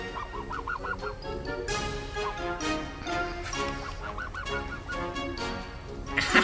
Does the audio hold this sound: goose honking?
yes